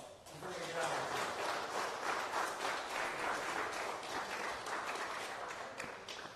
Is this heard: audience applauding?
yes